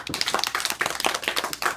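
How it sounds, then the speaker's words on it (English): Students clap their hands during a music lesson, a quick run of sharp, uneven claps from several people close by, with no talking over them. "Clap your hands."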